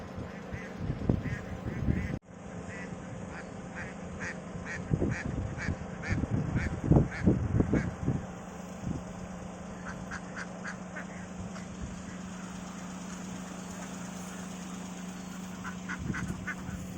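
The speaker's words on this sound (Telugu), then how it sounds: "చెరువు నిండా బాతులని" Ducks filling a village pond set among crop fields and hills quack in repeated bursts, some close and loud, others softer, with brief lulls and a constant background hum.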